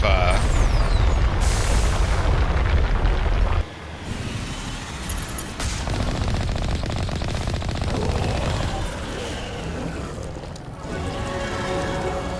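Gunfire from an enemy's shotgun-spread weapon in the video game Mass Effect, a loud, dense burst of booming shots for the first few seconds, then continued rattling fire and impacts at a lower level.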